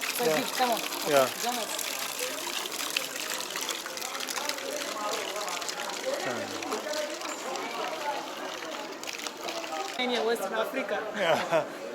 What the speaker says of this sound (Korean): 이런 물 나오는 음수대도 있네요